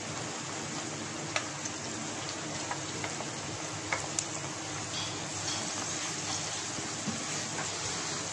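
Onions frying in a pan for bhindi masala give off a steady, dense sizzle with occasional small pops and stirring clicks, close and continuous without talk.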